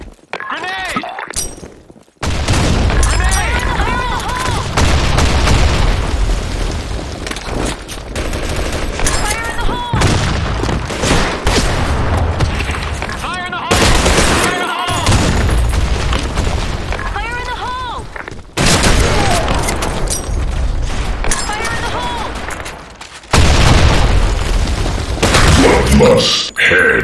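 Rapid gunfire and grenade blasts in the shooter game Blackshot, with dense bursts of automatic fire and sharp cracks broken by brief silences, loud and close, with voice callouts mixed in.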